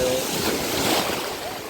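Continuous wash of rough surf on a crowded beach at Ilıca in Çeşme, Izmir, moderately loud and steady, with faint indistinct voices in the background.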